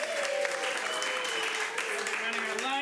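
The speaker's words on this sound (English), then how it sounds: "Big round of applause for Anthony." Theater audience applauds the lighting and sound technician at a live comedy show, a steady wash of clapping with some voices mixed in.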